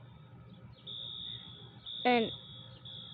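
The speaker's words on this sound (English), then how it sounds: "then we suddenly hear a fire alarm" A home fire alarm sounds as a steady high-pitched electronic tone held through most of the moment, faint under a quiet room hum, with a short voice breaking in partway.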